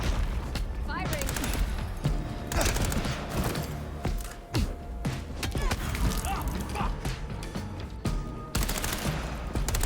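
Rapid gunfire bursts and single shots crackle through a combat scene in the vampire video game Vampire: The Masquerade – Bloodlines 2, loud and continuous with booming hits and voices shouting over the din.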